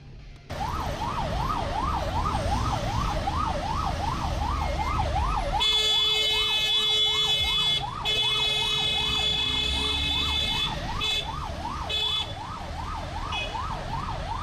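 An ambulance siren wails in a steady rapid up-and-down pattern, loud and close, running continuously over road traffic noise while a higher electronic tone joins partway through.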